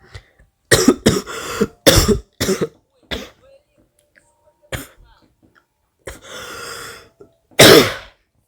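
Close, loud bursts of coughing, several hacking coughs in quick clusters, separated by quiet pauses and a throat clear.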